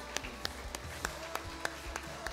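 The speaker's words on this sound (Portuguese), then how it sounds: "Você pode aplaudir a Jesus." A church congregation claps along in a steady rhythm during a worship service, sharp regular claps about three per second over a constant hall murmur, with no talking.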